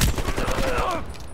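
A rapid fusillade of automatic gunfire from the video game Call of Duty Black Ops Cold War, dense and loud, fading out after about a second with faint speech underneath.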